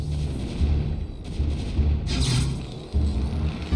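Widow mine strikes on Terran siege tanks in a StarCraft PvT match: a series of deep, booming low-end thumps and blasts with a sharper burst midway, loud and close, with no talk over them.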